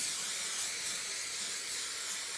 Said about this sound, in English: So I'm just spraying over.